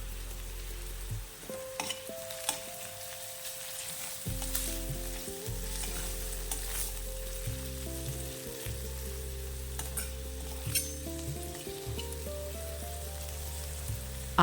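Turmeric powder and hing cooking in hot oil for methi sabji, giving a steady sizzling fry with occasional stirring scrapes, close and continuous, with a tonal musical bed running underneath.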